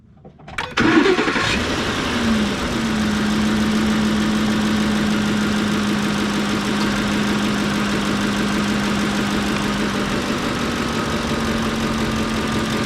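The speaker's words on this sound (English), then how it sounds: "Let's start this engine up" A 2008 Ford F150 engine cranks briefly, catches and settles into a steady, loud idle that runs alone and unbroken for the remaining seconds.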